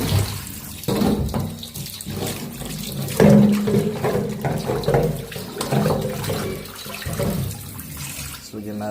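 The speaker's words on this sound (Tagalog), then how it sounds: "Lagyan natin siya ng tubig." Tap water runs into a container being filled for soup, a steady splashing, gurgling stream that shifts in tone as it fills, loud and close.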